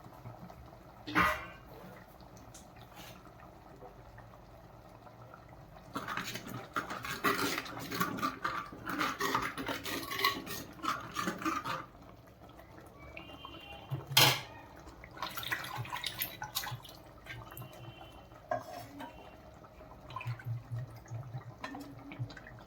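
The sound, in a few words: water poured over marinated mackerel fish to wash it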